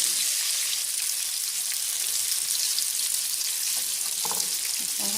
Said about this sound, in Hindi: अब हम इसके बीच में, इसी ऑयल के बीच में ये जो हम लोगों ने प्याज काट के रखा है ये डालेंगे